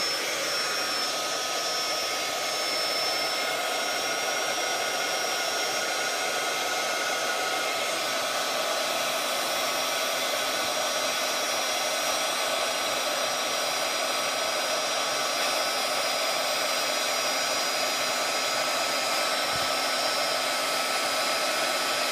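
A crafting heat tool blows continuously while melting embossing powder on a Halloween card, giving a loud, steady, close hair-dryer-like whir and hiss with no change for over twenty seconds.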